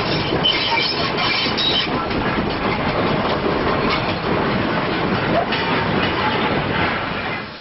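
A short train hauled by a North Eastern Railway Y7 0-4-0 tank and an Austerity 0-6-0 saddle tank rumbles past with a loud, continuous rolling roar and rail noise, steady throughout and close by.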